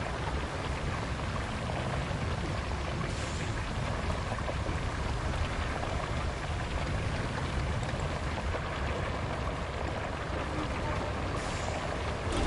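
Rain in the video game RoadCraft, a dense, steady hiss of downpour that stays even and loud throughout, with no voices.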